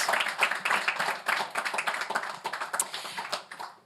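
A conference audience gives panelists a round of applause, with distinct individual claps forming a lively, uneven patter that rises and dips in short bursts.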